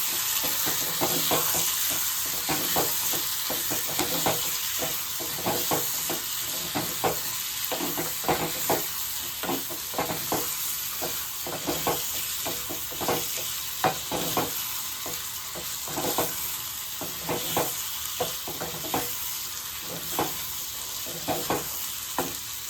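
Cashew nuts fry in hot oil in a pan with a continuous loud sizzle, while a spoon stirs and scrapes the pan in regular, repeated strokes.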